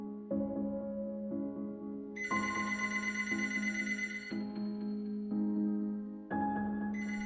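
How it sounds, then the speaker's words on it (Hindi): A phone ringtone plays a repeating electronic melody, stepping between pitches in a looping pattern, clear and continuous with no talking. "ये आवाज तो उसी के फोन की है।"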